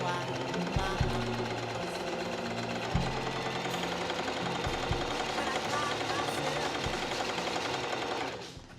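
A sewing machine runs steadily while stitching a top together, a fast continuous mechanical whir with a few brief knocks, holding level for about eight seconds before stopping near the end, with faint music underneath.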